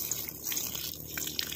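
Water splashes and pours steadily onto the dry soil of siling labuyo chili plants during hot weather, a continuous close liquid gush with small drips and no talking.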